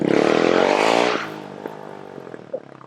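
A motorbike engine roars loudly nearby during Semana Santa in Las Terrenas, Dominican Republic, its pitch climbing as it revs, then drops away to a quieter idle with scattered clicks and rattles.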